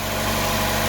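A Chevy Cruze 1.4 liter turbo engine idling just after start, a steady, even hum with a constant low drone and no voices.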